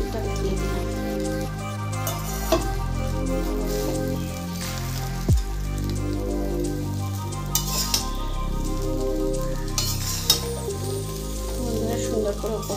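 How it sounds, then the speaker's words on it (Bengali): Rice frying in a pan is stirred, giving a soft continuous sizzle broken by irregular scraping and clinking strokes, moderately close and without speech. "সুন্দর করে উপর থেকে নাড়াচাড়া করে নিই।"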